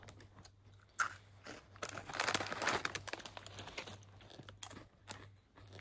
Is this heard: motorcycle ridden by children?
no